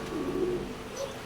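A pigeon at a loft in the rain gives a short, soft coo, low and fairly close, with light background hiss.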